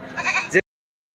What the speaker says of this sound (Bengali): দেখুন এই হাটে সুন্দর সুন্দর ছাগল